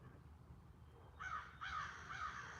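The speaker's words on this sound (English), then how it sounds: "I love listening to the crows." Crows caw outside, two short bursts of harsh calls in the second half, moderately distant over a quiet background hum, with no talking.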